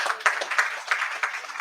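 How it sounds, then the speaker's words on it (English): Sparse applause from a small audience at a book fair in Gambia, a few separate bursts of clapping in an uneven rhythm, fairly quiet and close. "Another applause for her, please."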